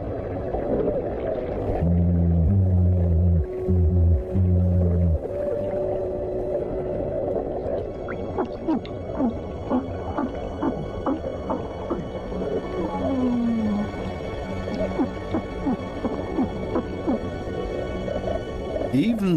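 Small porcupine fish bleating underwater with its swim bladder, low repeated grunting pulses near the start over a constant noisy reef hum, with clicks and crackles throughout and a voice talking over it.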